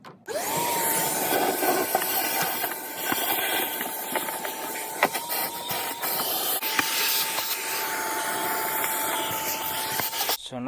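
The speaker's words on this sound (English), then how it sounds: "So we're going to be using our vacuum to extract it." A Milwaukee M18 battery vacuum hisses steadily while sucking leaves and debris out of a car, with a constant whine at the same pitch and some scraping knocks against the intake, heard up close and without talk.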